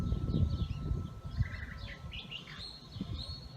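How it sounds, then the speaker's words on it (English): Small birds chirp and tweet in a quiet early morning in Tombstone, Arizona, with light wind chimes, soft and somewhat distant over a low rumble of ambient noise. "Birds and wind chimes basically"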